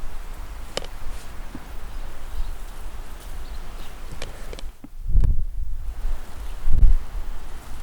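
Gusty wind blowing outdoors among blackberry bushes, a constant low rumble with heavier buffeting bursts against the microphone and occasional light rustles and taps of picking nearby.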